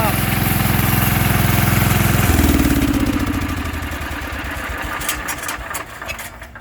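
A Wheel Horse garden tractor engine idles steadily and loud up close, its rhythmic chugging dropping in pitch partway through, then settling into a quieter uneven putter with a few light clanks near the end.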